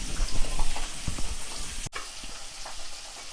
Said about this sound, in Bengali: প্রথমে পাবদা মাছ ভেজে নিতে হবে পাবদা মাছ ভাজা কিন্তু অনেক কঠিন ব্যাপার সহজ না